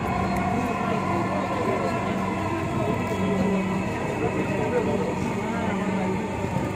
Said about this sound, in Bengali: তো এভাবে আপনারা মেট্রো রেল ভ্রমণ করবেন।